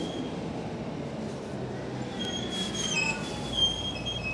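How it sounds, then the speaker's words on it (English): A tram in Wakefield rolls along its rails outdoors, a steady rumble with high wheel squeal rising toward the end, fairly close and continuous. "Tram."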